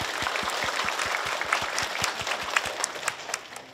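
Applause from an audience at a children's rights event, a steady wash of many hands clapping at moderate distance, with a regular low rhythmic beat running underneath and brief louder claps standing out near the end; no talking.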